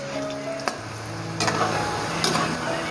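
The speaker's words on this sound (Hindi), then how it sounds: "अभी ये मैं चम्मच चला रहा हूँ, तो अभी से मुझे खस्ता महसूस होना शुरू हो गए हैं।" Sliced potato chips fry in hot oil with a steady, dense sizzle as a spoon stirs them, giving occasional sharp clinks against the pan over the continuous crackle.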